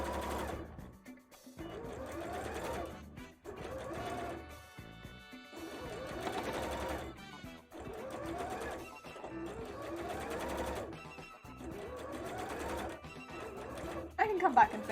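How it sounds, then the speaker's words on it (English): A sewing machine top stitching a handmade bra runs in repeated bursts of rapid mechanical whirring with brief pauses between runs, close and fairly loud, with a voice speaking over parts of it. "For now, then we'll just do our top stitch."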